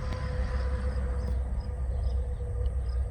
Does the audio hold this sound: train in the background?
yes